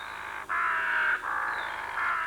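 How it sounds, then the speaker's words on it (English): Ravens call near their nest in bare woodland branches, giving a few drawn-out harsh croaks in a row, fairly close and otherwise alone. "These ravens built their nest in the bare branches many weeks ago."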